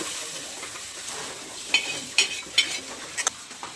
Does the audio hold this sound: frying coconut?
yes